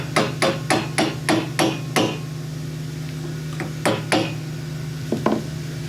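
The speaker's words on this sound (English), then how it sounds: "Matt, couldn't you find a smaller ball peen hammer?" A small ball peen hammer taps metal sharply, first in a quick run of about seven even strikes, then a pause followed by a few scattered taps.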